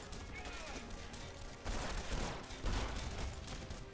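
Shotgun fire in the video game Red Faction: Guerrilla, two or three heavy blasts in the second half over a busy game soundscape, with a voice talking faintly.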